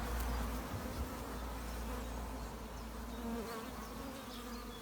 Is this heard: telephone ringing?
no